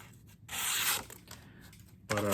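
A freshly sharpened razor-sharp knife slices through a sheet of paper, giving a short scratchy tearing rasp that repeats in quick passes, close and crisp.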